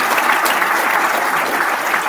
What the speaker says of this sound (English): Let's give our junior male and female athletes of the year another round of applause